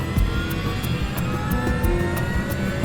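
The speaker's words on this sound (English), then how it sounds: "he records the sound of the engines from inside the cockpit" Aircraft engines are heard from inside the cockpit during start-up and throttle-up, a loud, continuous roar with steady whine and rumble and faint periodic ticks, no voices.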